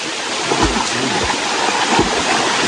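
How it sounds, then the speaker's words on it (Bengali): A stream and waterfall in the Sitakunda hills, with a steady broad rush of flowing water continuing throughout, fairly close and loud, with a few low bumps mixed in. "আমার মনে হয় এটাই ঝর্ণা"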